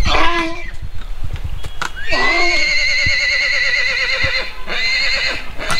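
A pack horse used to carry vegetables neighs loudly and up close on a village road in Poombarai, with a long, wavering whinny followed by a shorter one.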